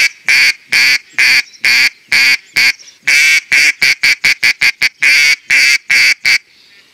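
An acrylic mallard duck call imitates a female mallard, giving a loud, close run of short quacks, spaced fairly evenly at first and then coming faster and tighter, heard alone without talk.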